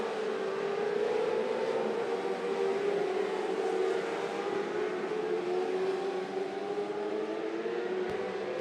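600R mini sprint cars racing in a heat race on a dirt oval, a loud, sustained pack of engines droning and rising in pitch together, heard from a distance.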